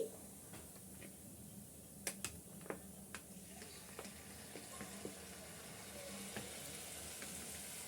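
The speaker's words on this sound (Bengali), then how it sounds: "আর এই একইভাবে আমি সবগুলো ভেজে নিচ্ছি।" Batter jhuri deep-frying in oil gives a faint, steady sizzle dotted with scattered sharp pops and ticks.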